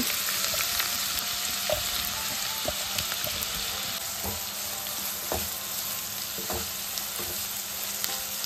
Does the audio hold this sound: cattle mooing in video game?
no